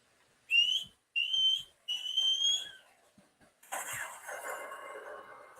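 Three shrill whistle blasts from an alarm inside a building, each about half a second long, are followed by a longer, noisier hissing tone.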